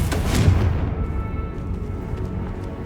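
A Confringo spell explosion in the Hogwarts Legacy video game: a heavy thudding blast that peaks early, then decays into a lingering low rumble over a few seconds.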